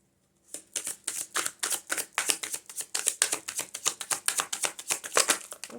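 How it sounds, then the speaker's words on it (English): Tarot cards being drawn and handled, a quick run of crisp riffling and flicking snaps, close and steady for several seconds with no talk. "I'm going to draw all 4 cards"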